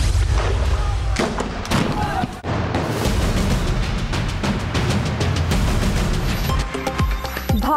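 Army gunfire in Shopian, Kashmir: a dense run of sharp, loud gunshot cracks and booms in irregular bursts, close and repeated throughout, with no speech over it.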